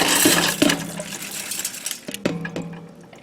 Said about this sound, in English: We're going to go ahead and put the rice in here.